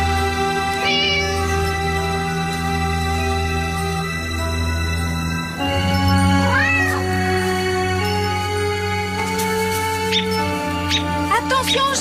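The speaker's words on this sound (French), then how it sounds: "Attention au chat!" A cat meows in a run of rising, wavering calls over a steady tonal music-like background, close and fairly loud, with several separate meows spread through the clip.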